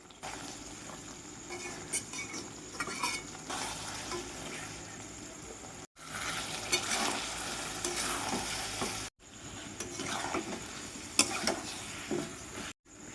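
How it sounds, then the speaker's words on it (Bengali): Mutton is stirred and sautéed in a wok-style pan with oil and spices, a close, continuous sizzle and scraping broken by short pauses, with no talking. "এইভাবে নেড়ে চেড়ে কষাতে হবে যেন কোনোভাবেই কড়াইয়ের তলায় লেগে না যায়"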